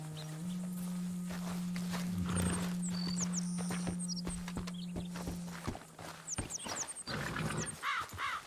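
Horse sounds in the Red Dead Redemption II video game: a low steady snort or whinny drone followed by soft hoof clops and short calls, fairly quiet, with no talk over them.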